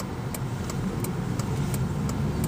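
A 2007 Honda Civic's engine hums steadily from inside the cabin while driving in second gear, a continuous low drone with faint periodic ticks and no talk.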